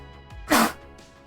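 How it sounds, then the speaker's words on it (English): One sudden, sharp sneeze bursts out close to the microphone, brief and loud against a quiet background. "that sneeze was very sudden"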